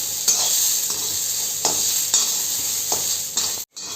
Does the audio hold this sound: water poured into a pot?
no